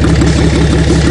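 A Chevrolet Lumina's engine drones steadily at a rough, low idle-like rumble, loud and close, with a regular pulsing throb and no talk.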